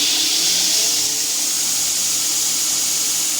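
Belt grinder squaring off the cut metal end of a knife blank, a continuous bright hissing whine of abrasive on steel, steady and close, with no talking.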